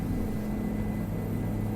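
A helicopter in Microsoft Flight Simulator drones with a low, steady engine and rotor hum, a continuous tonal rumble with no talk over it.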